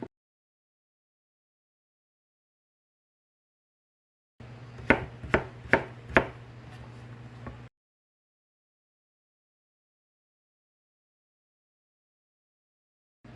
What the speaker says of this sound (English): And I cut 1/2 inch slices.